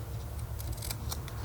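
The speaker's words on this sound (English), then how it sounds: "I like making diagonal cuts in my paper." Scissors snip through paper pockets in a run of short diagonal cuts, several crisp bright snips close up over a steady low background hum.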